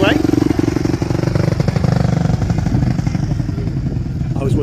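A large motorcycle at a Salvation Army toy run rumbles loudly and close by with a steady, throbbing engine beat, and a person talks over it.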